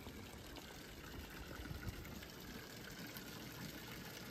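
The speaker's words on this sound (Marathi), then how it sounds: "वा इथे पण पाण्याचा झरा आहे." A freshwater spring near the sea in Ratnagiri, Konkan, trickles and splashes continuously, with faint, steady flowing water under light outdoor background noise.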